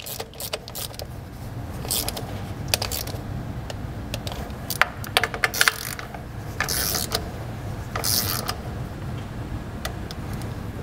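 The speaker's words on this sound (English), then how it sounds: "So I've got my torque wrench set to 31 inch pounds" A torque wrench ratchets and clicks while valve cover bolts are tightened, with short bursts of mechanical clicking and a few sharp ticks over a low steady background hum.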